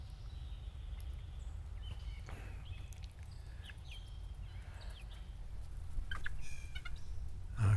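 Backyard chickens and hens on a hot day, heard as faint scattered clucks and gobble-like calls over a low steady rumble of background noise, no voices.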